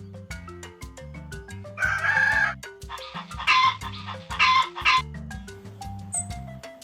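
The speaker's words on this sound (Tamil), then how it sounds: "சேவல் தனது கோழிகளை பாதுகாக்கும்." A rooster crows in two or three drawn-out calls over gentle background music, fairly loud and near.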